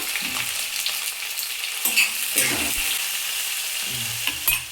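Onions and curry leaves frying in a pan for a potato curry for puri, a steady broadband sizzle with a few louder bursts and low thumps as they are stirred, close and with no talking.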